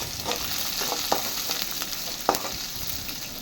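Chopped onions sizzle in hot oil with popping mustard seeds, a steady bright frying hiss broken by a couple of sharp crackles and stirring scrapes, close and alone.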